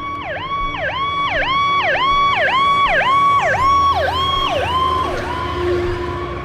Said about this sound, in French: Lorsque l'ambulance passe, nous entendons un son aigu, puis un son grave, lorsqu'elle s'approche et qu'elle s'éloigne.